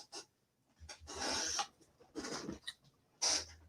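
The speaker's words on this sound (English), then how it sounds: "this is a weed grinder, which is legal here in Canada" A hand-turned weed grinder makes three or four short, gritty rasping bursts, quiet and close, separated by brief silences.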